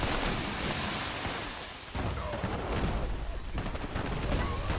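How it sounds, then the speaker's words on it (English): Grenades exploding in the Fallout 76 video game, a dense barrage of bursts and crackling blasts rumbling continuously, with a sharp jolt midway and overlapping hits throughout. "Now someone's raining down grenades."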